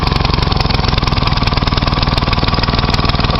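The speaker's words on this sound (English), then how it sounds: "I've got it on a brush trimmer. So I'll shut it off so you can hear it" A brush trimmer's small engine, fitted with a homemade vapor carburetor, runs loud and steady close by, its rapid firing pulses forming an unbroken rattling drone with no talk over it.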